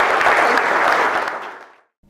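A burst of applause closing a business podcast interview, full and steady at first, then thinning and fading out to silence near the end.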